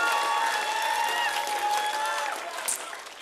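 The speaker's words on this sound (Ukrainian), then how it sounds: "Хлопці, ці оплески вам." Studio audience applauding a band after a live televised singing-contest performance, a dense steady wash of clapping mixed with sustained tonal sound that fades slightly toward the end.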